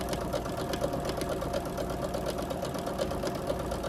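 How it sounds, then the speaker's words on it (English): A sewing machine runs steadily while stitching quilt fabric along a drawn line for a Carpenter Star block, a close, continuous rhythmic whir with a fine chattering pulse throughout. "sewing on that line we drew, but on each side of that line"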